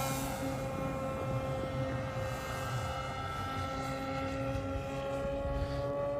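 RQ-7 Shadow RC model airplane in flight at an airfield, its propeller engine droning steadily with a sustained buzzing whine that holds loud and constant throughout, with no voices.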